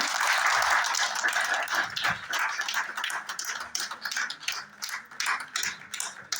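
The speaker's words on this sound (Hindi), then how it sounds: "तालियों में कमी नहीं होनी चाहिए।" Audience clapping at a branch unit meeting in Delhi, a dense, sustained patter of many hands that stays loud, then thins slightly and grows more uneven toward the end.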